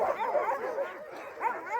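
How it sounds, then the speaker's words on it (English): Excited sled dogs in the Arctic snow yipping and barking in quick, overlapping bursts with whiny, high-pitched cries, fairly close and continuous over a couple of seconds. "hearing all the barking really showed me how much they love their work"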